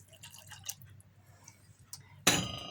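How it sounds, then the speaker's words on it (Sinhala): A glass of milk is poured into a bowl of flour batter for a lasagna pizza, a short, loud splashing pour near the end after quiet drips and a low hum. "දැන් දාගන්නවා මම මේකට කිරි වීදුරුව."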